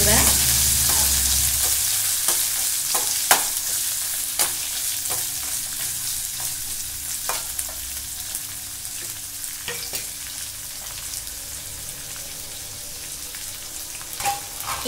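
Onions sizzle steadily in a hot pan, with a spoon scraping and stirring in irregular clicks and knocks, close and fairly loud.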